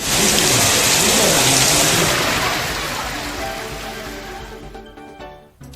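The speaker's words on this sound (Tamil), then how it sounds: "இரண்டு மணி நேரத்திற்கு மேலாக இடியுடன் பெய்த மழையால் தாழ்வான இடங்களில் தண்ணீர் தேங்கியது" Heavy rain pours down for hours with thunder during a storm that left low-lying areas waterlogged, a dense loud hiss with low rumbling underneath that eases slightly toward the end.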